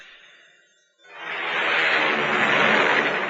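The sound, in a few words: airliner taking off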